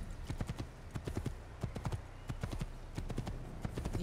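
Horse hooves clip-clop at a steady, fairly quick walking rhythm in the Assassin's Creed video game, moderately quiet and continuous throughout, with no talk over them.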